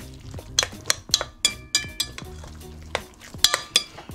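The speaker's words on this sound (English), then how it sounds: "you just go mix your meat and incorporate your egg, onions, and seasonings all together" Ground turkey being mixed with egg, onions and seasonings in a bowl: irregular clinks, knocks and soft squelches come in uneven bursts, close and fairly loud, with no talking.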